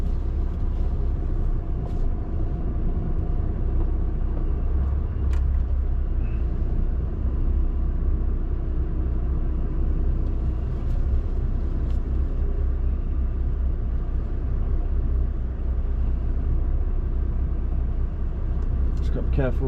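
A lorry engine rumbles low and steady throughout a slow blind reverse, the heavy drone continuous and close with occasional faint clicks and hisses over it.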